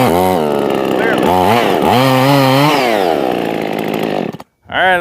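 A rebuilt Husqvarna 55 chainsaw fitted with a Chinese cylinder kit runs loud and close, its two-stroke engine revving up and down in rising and falling sweeps before briefly cutting out and roaring back.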